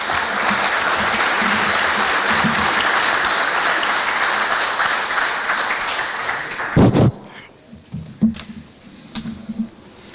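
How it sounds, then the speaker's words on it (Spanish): Strong applause from an audience at a book presentation, dense sustained clapping for several seconds that cuts off abruptly, leaving a few scattered claps and quiet room noise. "Lo recibimos con un fuerte aplauso."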